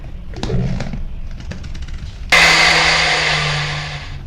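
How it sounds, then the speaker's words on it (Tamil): A few light knocks and clinks give way to a mixer grinder that suddenly roars to life, grinding appam batter with a loud, steady whir and a low motor hum that slowly eases off. "இது எல்லாத்தையும் நாம் மிக்சியில் நல்லா சுமூத்தாக வார அளவுக்கு இதை வந்து அரைச்சி எடுத்துருவோம்"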